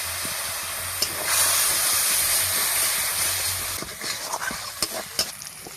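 Water splashed into a hot frying pan with a raw plantain and egg chop filling bursts into a loud, steady hissing sizzle that lasts a couple of seconds, then fades into softer crackles and scattered stirring clicks.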